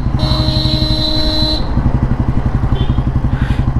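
A 1957 Royal Enfield Bullet G2 motorcycle rides in top gear, its single-cylinder engine thumping in a steady, even beat close to the microphone, with a long horn blast at first and a brief second honk later.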